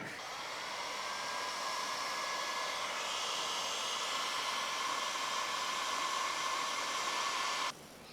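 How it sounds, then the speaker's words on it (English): A handheld heat gun blows hot air on a wrecked Ducati V2 Bayliss motorcycle wheel to lift old decals, a loud, steady whooshing roar that holds for several seconds and then drops off sharply near the end. "So I've got a couple of tools. I've got Dissolve It and my heat gun."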